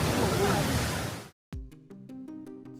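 A woodland waterfall in Ireland roars as a broad, dense rush of falling water, loud for over a second before cutting off abruptly, followed by unrelated tonal notes.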